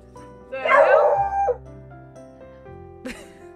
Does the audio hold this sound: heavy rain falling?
no